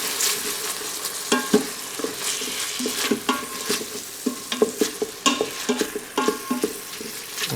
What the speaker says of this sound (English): now I'm gonna get the onions in. Okay, we're gonna saute these